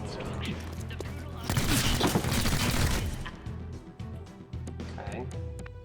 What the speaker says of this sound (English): I want to try and shoot this dude